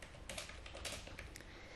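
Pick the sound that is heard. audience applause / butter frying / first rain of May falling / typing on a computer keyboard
typing on a computer keyboard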